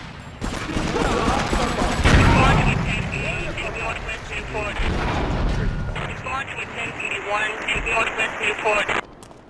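Police in Grand Theft Auto III open fire, a dense rattle of gunshots and booms mixed with game noise while a person keeps talking over it.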